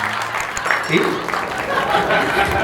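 A comedy club audience bursts into dense, sustained applause for a DJ, clapping filling the room with crowd noise and a voice talking over it.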